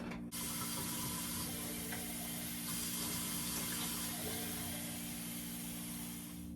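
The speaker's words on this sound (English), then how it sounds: "I'm going to get the kettle out and get some water on." Water runs steadily from a tap into a kettle at a rural 1800s cottage on a horse farm, a quiet, continuous hiss and splash with no talking.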